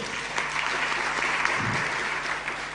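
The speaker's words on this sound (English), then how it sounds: "A round of applause for them." A summit audience applauds a panel at the close of a discussion, a steady, moderately loud burst of many hands clapping over a faint low hum, with no talk.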